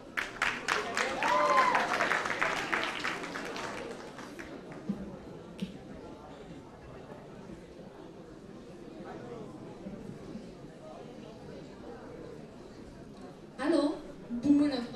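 A crowd at a freshman ball at Liceul Spiru Haret in Moinești, Romania, bursts into lively applause for about four seconds, then it dies into a quiet room murmur with brief voices near the end.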